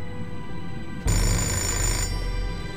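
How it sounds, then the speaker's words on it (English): A telephone rings inside the Indigo Prophecy video game, a steady electronic bell tone that swells louder for about a second, then settles back to a moderate level over a constant background hum with no talking. "Oh, yes, it's a phone call."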